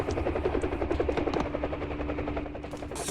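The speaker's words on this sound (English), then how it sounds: "Hey, helicopter, where are you going?" Helicopter in the Arma 3 combat game, a loud, close rotor drone with steady rhythmic thumping and engine whine that holds throughout, with no speech.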